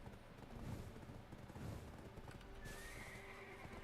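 A horse in the game Black Desert Online whinnies loudly up close, with hoof clip-clop and other game sounds underneath and a faint tone entering near the end.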